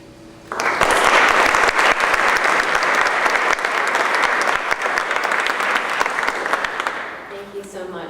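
An audience at a public program bursts into strong, sustained applause to welcome speaker Amy Hughes. Dense clapping starts abruptly, holds steady for several seconds, then tapers off at the end.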